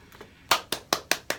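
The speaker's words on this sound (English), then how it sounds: "That's our clap. That's our sound effects tonight." Five sharp, evenly spaced hand claps used as a sound effect on a radio show, close and distinct, preceded by a couple of faint softer taps.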